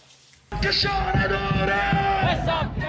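A large crowd of Iranian royalist protesters in Geneva cheers and yells loudly and continuously after a brief quiet start, with whoops and chanting-like shouts close by.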